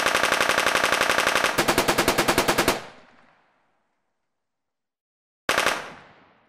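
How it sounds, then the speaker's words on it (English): A machine gun sound effect for a game in Unreal Engine: a rapid, loud burst of evenly spaced shots that stops and decays into a tail, then after a pause another burst begins. "I've got some random machine gun sounds here,"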